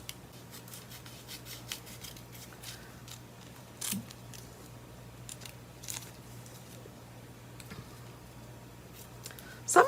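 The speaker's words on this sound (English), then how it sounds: "These are embroidery scissors that I like to use for a lot of my projects like this." Quiet, close-up snips of small embroidery scissors cutting batik fabric, a few sharp clicks spaced irregularly over a low steady hum.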